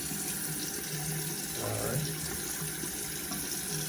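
Warm water runs steadily from a faucet into a sink while a Rolex watch is rinsed under it, a continuous hiss with a brief shift as the stream is interrupted; a voice speaks briefly.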